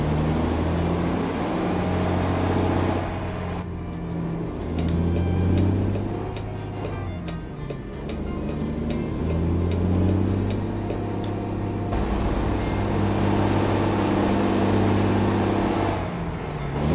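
A Kenworth 100th edition truck hauling a reefer trailer in American Truck Simulator rumbles with a steady loud engine drone, broken by sharp air brake hisses and squealing tones partway through.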